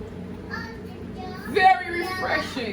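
A young girl plays and calls out in the background of a kitchen, her high voice bursting up briefly a couple of times, moderately near and over a low room hum.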